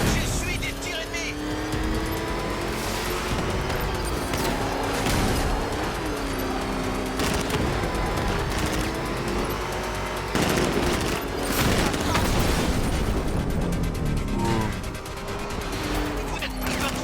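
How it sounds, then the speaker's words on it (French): Enemy gunfire in Batman: Arkham Knight rattles in repeated loud bursts over roaring vehicle engines and a dense action mix, with someone speaking French over the game sound. "J'essuie des tirs ennemis."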